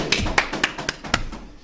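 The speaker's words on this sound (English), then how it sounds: "Keep clapping it up." A few people clapping in a room at a night law class: sparse, uneven claps, about six distinct slaps in under two seconds, close and fairly loud with no talk over them.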